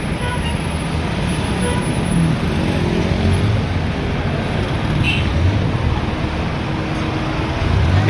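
Busy bazaar traffic in Mansehra, with many cars including Mehrans passing, a continuous loud engine rumble, road noise and an occasional faint toot.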